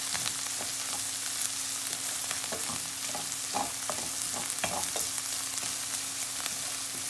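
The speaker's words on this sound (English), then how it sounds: "So let's mix up our whole geera and pepper flakes in that" Whole geera and pepper flakes fry in a pan with a steady, close sizzle while a utensil scrapes and stirs in irregular taps, no one talking.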